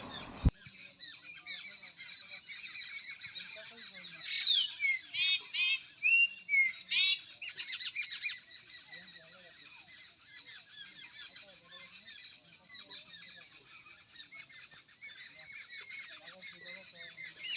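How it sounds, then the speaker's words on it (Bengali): Geese honk and other birds chirp continuously near open fields in a rural border area, with a dense bird chorus that swells in bursts midway and stays moderately close throughout. "চলো পাখির ডাক শোনাই"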